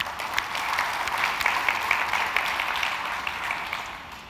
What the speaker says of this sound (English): please all give a big clap of thanks to them